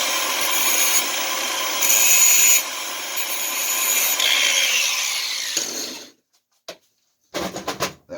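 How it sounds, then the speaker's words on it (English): Steady rasping of a file sharpening a small tool blade, a close continuous scraping run for about six seconds, then brief clicks and scrapes after a pause. "I just sharpened this one up really good"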